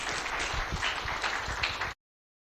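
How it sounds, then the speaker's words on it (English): Audience applause at a World TB Day commemoration event, a dense, steady burst of clapping lasting about two seconds before cutting off abruptly. "Another round of applause for Coco."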